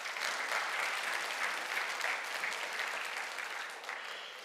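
A church congregation applauding during a Sunday worship service, dense sustained clapping from many hands that holds steady and tapers slightly at the end.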